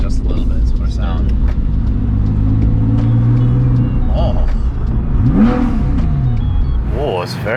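RWB wide body Porsche 997 engine revving, heard from inside the car with a window cracked, a rough loud rumble rising and falling in pitch while people talk over it.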